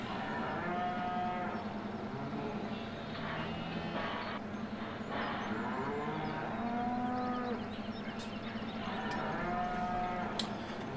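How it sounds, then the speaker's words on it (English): Cows in Farming Simulator 17 moo repeatedly in long, drawn-out, overlapping calls over a steady farm ambience, fairly close and loud. "cows."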